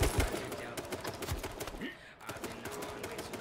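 Gunfire in the online battle royale game H1Z1, a rapid string of sharp shots and impacts dense throughout, mixed with game noise, fairly loud and close.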